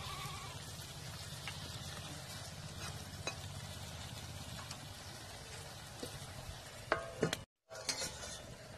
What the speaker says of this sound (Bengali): এবার আমি মাছগুলো দিয়ে নেড়ে ছেড়ে 2-3 মিনিটের জন্য ডেকে রেখে দেবো